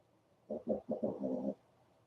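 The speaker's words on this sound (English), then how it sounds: "So a lot of birds today." Birds call close by in a quiet outdoor setting, with pigeons or doves cooing in a cluster of soft, low, throaty notes lasting about a second.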